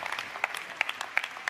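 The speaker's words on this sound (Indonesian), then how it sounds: "Tepuk tangan dulu untuk teman kita luar biasa." Brief, faint applause from an audience honoring a participant at a church talk, with a few sharper claps standing out from a light, thin patter over about a second and a half.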